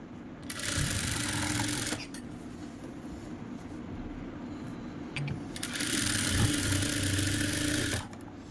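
A sewing machine runs a kurti side seam in two stretches, a steady fast whir for under two seconds, a pause with soft handling noise, then a longer burst, close and clear.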